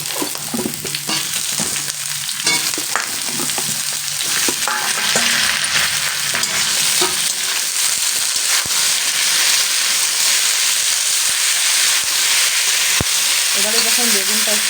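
Eggplant pieces fry in a pan of hot oil for a Bengali winter spinach dish: a loud, steady sizzle and crackle runs throughout, with stirring scrapes early on and no one speaking.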